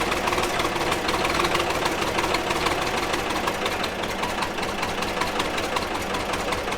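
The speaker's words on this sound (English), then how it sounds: "Let's fire her up." A 1988 Ford 545C skip loader diesel engine is heard being fired up after a fuel filter and sediment bowl change, with a steady, loud, close knocking clatter that continues throughout.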